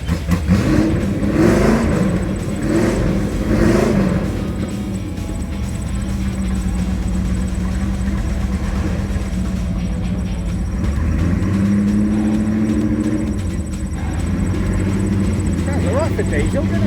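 A kit car engine at the Prescott hill climb revs loudly nearby, rising and falling in pitch over a steady rumble, while people talk over it.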